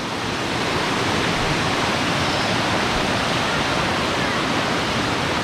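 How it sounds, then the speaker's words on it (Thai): Steady, dense roar of a waterfall at Mae Kampong village in Chiang Mai, a loud broadband rush of falling water close by, unbroken and with no voices over it. "ข้างบนน้ำตกจะใหญ่กว่าครับ"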